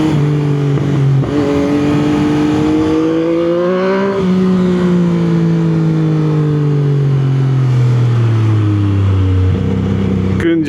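A 2021 Yamaha MT-09 naked motorcycle engine runs loud and close, its tone rising and falling as the revs change, with a person talking over it.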